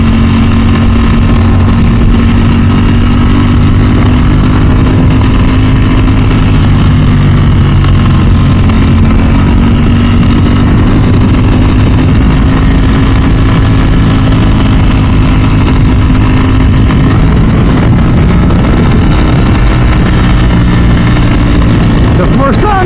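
A Ducati motorcycle engine drones steadily and loudly while riding, with a sustained engine hum that shifts slightly in pitch.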